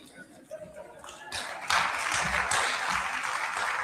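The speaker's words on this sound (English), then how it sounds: "Another round of applause for Mr. Manuel Moses, CEO ATIDI." Audience at a State House anniversary celebration in Nairobi breaking into applause, starting with scattered claps and quickly swelling into full, sustained clapping, with a voice heard faintly before it builds.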